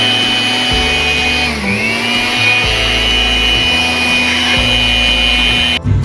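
An air blower runs steadily at close range while cleaning dust from inside a PC system unit, a continuous loud whine with a brief dip in pitch partway through and a sudden cutoff at the end.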